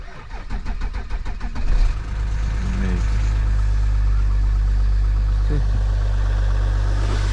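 A diesel car engine cranks with a rapid rhythmic churn after its glow plugs are heated, then catches and settles into a loud, steady idle rumble close by, in a snowy setting.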